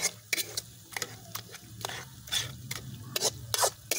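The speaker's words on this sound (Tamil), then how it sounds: "நல்ல கிண்டிக்கிட்டே இருக்கணும்" Ladle stirring and scraping blood poriyal in a pan, a series of short rubbing and scraping strokes at an uneven rhythm, close but fairly quiet.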